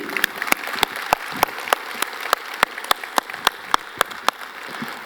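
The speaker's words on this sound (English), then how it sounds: "Can we have a huge round of applause for Farid?" A crowd claps for Farid at a Vivo V7+ smartphone launch event, sharp distinct claps in a steady, sparse rhythm, moderately near, with no talking.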